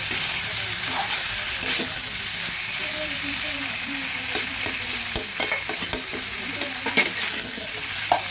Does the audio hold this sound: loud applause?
no